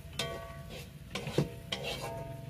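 Spoon stirring a pan of chicken filling with fried ground coriander, cumin and meat masala, three scraping strokes over a soft sizzle, close and alone.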